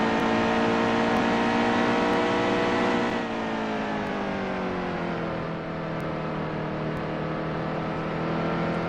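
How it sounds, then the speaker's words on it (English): A racing truck's engine in the video game NASCAR Heat 2 roars steadily with dense harmonic drone, its pitch sagging midway as it eases off, then holding a lower rumble. "I don't like being able to hear the tires squealing, squelching"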